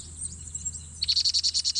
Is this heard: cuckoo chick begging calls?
yes